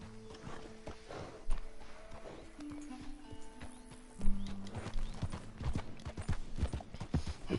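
Horse hooves clip-clop at a walking pace in the video game Red Dead Redemption 2, with steady, fairly close hoof strikes over low game ambience.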